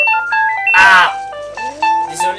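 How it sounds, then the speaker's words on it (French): A telephone rings during a trio gaming session of TimeSplitters Future Perfect, playing a looping electronic ringtone melody of bright repeated tones. A person exclaims briefly over the middle of it. "c'est le téléphone. On va mettre la vidéo en pause."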